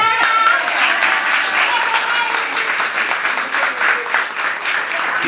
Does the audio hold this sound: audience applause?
yes